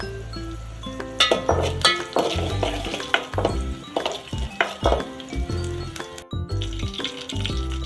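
Garlic fries in a pan on a wood-fired clay stove, a loud close sizzle broken by repeated metal spoon clinks and scraping strokes against the pan, with no speech.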